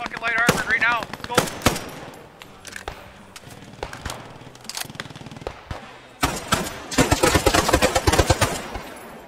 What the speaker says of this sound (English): Machine gunner, I want to fire down on that fucking light armored right now.